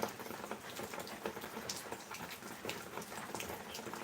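Steady rain falls on an outdoor yard in Kannur, a dense pattering hiss with scattered brighter drops, fairly quiet and continuous with no voices.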